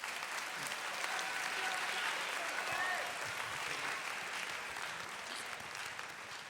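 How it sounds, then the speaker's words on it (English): Audience applause at a business incubator pitch night fills the room with dense, steady clapping that holds loud and even for several seconds, thinning slightly toward the end, with a few voices faintly mixed in. "we should all give them a round of applause."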